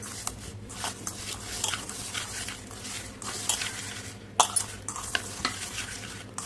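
Peanut laddus being rolled and coated in sesame seeds in a bowl, giving soft scraping, rustling and light clattering that repeats steadily close by, with no talking.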